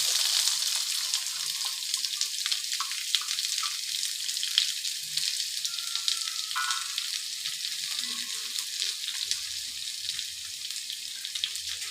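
Small onions, sliced into thin rounds, fry in a pan with mustard seeds in a continuous bright hiss and crackle, close and steady, with faint low knocks now and then.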